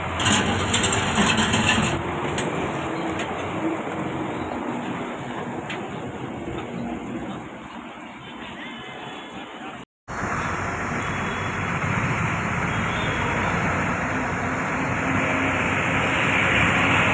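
A vehicle engine runs steadily through a long rumbling stretch while the vehicle moves off, with continuous road and mechanical noise, a brief cut partway through, then the same loud drone resuming.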